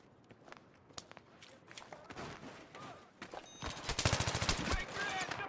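Gunfire in the PS3 version of Battlefield 3: scattered distant shots and footsteps build into a dense, loud burst of rapid automatic fire near the end.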